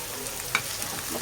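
Chopped vegetables with garlic greens and capsicum for chicken Manchurian being stirred in a hot pan, a steady close sizzle with soft scraping strokes of a spoon.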